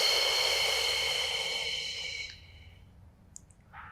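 A person exhales slowly and steadily during a Pilates breathing exercise for lower back pain, a long airy breath that fades out after about two seconds, followed by near silence with a faint click.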